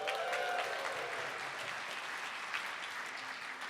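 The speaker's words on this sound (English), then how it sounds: "if I need you to clap and yell, I can just say Synod Assembly" An audience at a church synod assembly gathering claps steadily, a broad, even roar of hands sustained throughout at moderate distance, with no speech over it.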